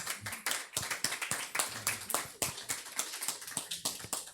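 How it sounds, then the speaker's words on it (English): Audience clapping after a speaker announces grants and loans for Black Californians, with a fairly quiet, quick run of many separate claps in an irregular rhythm and no talk over it. "Y'all can clap for that."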